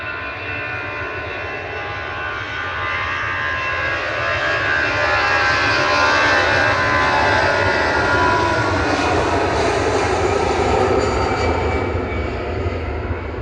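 A Finnair jet airliner lining up on the runway at Manchester Airport, its engines producing a loud, continuous roar and whine that swells slightly midway and holds steady.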